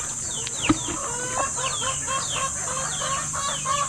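Several farm chickens, fighting cocks among them, cluck and squawk at close range while being fed, with a steady stream of short overlapping calls.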